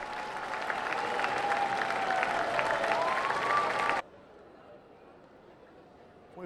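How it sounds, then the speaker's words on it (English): A ballpark crowd at AutoZone Park gives a sustained standing ovation, a dense wash of clapping and cheering under a commentator's voice before cutting abruptly to quiet. "a standing ovation from this AutoZone Park crowd"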